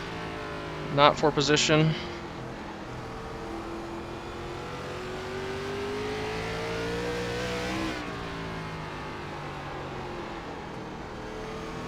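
Race car engine revving hard in iRacing during an ARCA Menards Series race at Southern National, a steady rising drone under a commentator's voice, with a short burst of louder noise early on.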